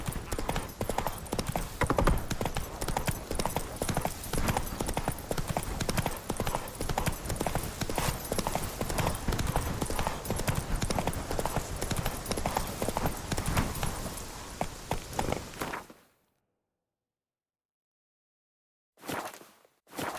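Roach, a horse in The Witcher 3, gallops with rapid, steady hoofbeats for about fifteen seconds, loud and close, then stops abruptly into silence before brief faint sounds.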